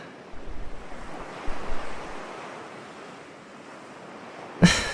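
Ocean waves surging steadily with a broad, hissing wash and low rumbling swells, some wind noise across the microphone, ending in a sharp splash or knock, no voices.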